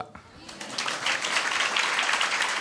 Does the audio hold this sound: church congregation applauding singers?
yes